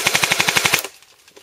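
A Steyr AUG A2 rifle fires a rapid burst of about ten loud, evenly spaced shots, then cuts off into a quiet tail with faint room noise.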